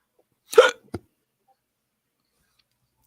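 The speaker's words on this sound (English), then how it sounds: "Hiccup." A single sharp hiccup sounds up close, followed by a brief faint click and another tiny burst near the end, with silence between.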